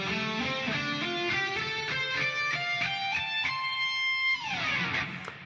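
An electric guitar lick ascends slowly note by note up the fretboard, each note picked distinctly, ending with a slide back down, played alone and clearly.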